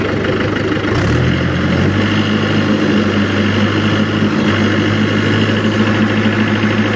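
A tractor engine drives a rotavator in second gear, a loud, steady close-up drone with a low throbbing hum that shifts pitch briefly near the start and then holds constant.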